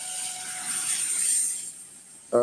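An RC model airplane flying at full throttle gives a continuous, fairly loud high-pitched motor whine with a rushing swell that peaks mid-pass, then fades slightly before a short knock at the end.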